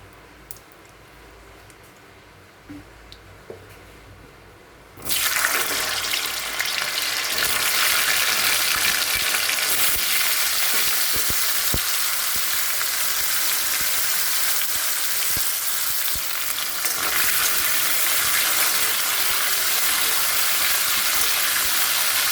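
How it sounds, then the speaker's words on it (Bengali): Lightly boiled, washed and drained taro pieces frying in oil, a loud, dense hiss that suddenly bursts in after a quieter opening and then holds steady and close. "এটাকে আমি ভালো করে এখন ভেজে নেবো"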